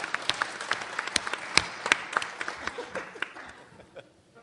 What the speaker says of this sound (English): So give Miguel a round of applause.